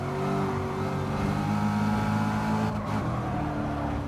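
Racing car engines in Gran Turismo 7 drone loudly and continuously at high revs, close by, with a brief dip in pitch near the end and no voices.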